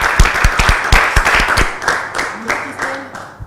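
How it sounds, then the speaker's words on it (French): Studio audience applauding loudly for a guest on a Congolese youth talk show, sharp dense claps at first that thin and soften over a few seconds, with voices mixed in. "Je vous demande d'applaudir bien fort Christelle Tendo"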